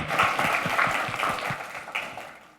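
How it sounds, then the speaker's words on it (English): A conference audience at an AI hardware event claps warmly to welcome a speaker, a dense, fairly close burst of applause that holds steady for a couple of seconds before tapering off, with no talking over it. "Please give him a warm round of applause."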